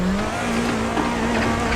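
Tires squeal steadily as a car drifts in the Assetto Corsa racing sim, a sustained near screech running over engine roar for about two seconds.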